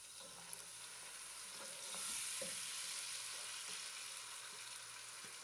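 Chopped ingredients fry in a cup of cooking oil over a medium flame for chana daal, a steady bright sizzle with faint stirring scrapes, moderately quiet and continuous with no talking.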